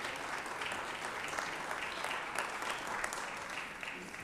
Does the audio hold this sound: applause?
yes